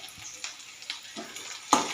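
Tomatoes fry with onions in oil in a wok, a faint, steady sizzle broken by a few sharper spatters and scraping stirs, the loudest near the end.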